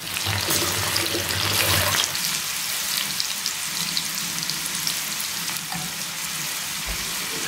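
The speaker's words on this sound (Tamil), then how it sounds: "போதும், இது ஃப்ரை ஆகட்டும்." Crispy corn snack deep-frying in hot oil, a steady dense sizzle and bubbling that stays loud and even throughout with no voices.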